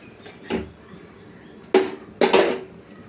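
A lid set onto a cooking pot of jackfruit curry in a home kitchen: a soft metallic tap, then two louder close clanks of metal on metal, with quiet room background between them.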